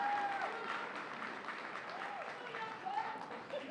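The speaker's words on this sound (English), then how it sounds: "can we just give another round of applause to everyone involved?" An audience at a Black History Month gala in Bloomington claps in a sustained, even round of applause. The sound comes from a crowd at a moderate distance, fairly soft and continuous, with occasional whoops and voices mixed in.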